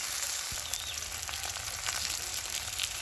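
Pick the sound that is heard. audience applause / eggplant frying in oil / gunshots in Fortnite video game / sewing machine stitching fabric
eggplant frying in oil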